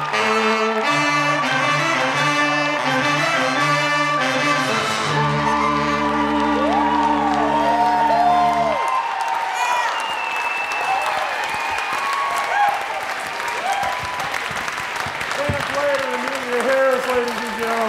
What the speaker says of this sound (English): let's give one more round of applause for Legal Aid